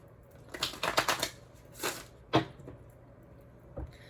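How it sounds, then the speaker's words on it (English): A deck of cards is shuffled close up: a quick run of riffling bursts, a second riffle, a sharp snap as the cards are squared, then a soft tap. "let me just shuffle this deck"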